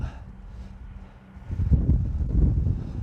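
Crosswind blowing left to right over a golf course buffets the microphone: a faint low rumble that swells into stronger gusts about halfway through, with no one talking.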